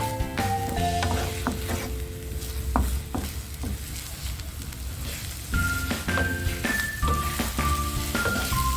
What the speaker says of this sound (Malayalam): ഇത് ചിക്കി വറുത്തെടുക്കണം കേട്ടോ